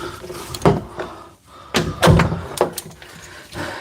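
A resistance band door connector goes into the top of a home door, giving several loud thumps and knocks against the door, spaced irregularly, close up and without talk.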